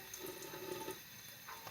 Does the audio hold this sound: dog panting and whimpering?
no